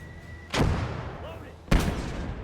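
An 81mm mortar fires in the World War II game Gates of Hell, two heavy booming discharges about a second apart over a low battlefield rumble, with a voice talking in the background.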